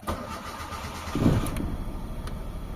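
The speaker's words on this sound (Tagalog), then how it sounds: "So start tayo ng engine" A Mitsubishi Lancer engine with low power cranks and catches, sputtering into a rough, uneven idle that keeps running close by.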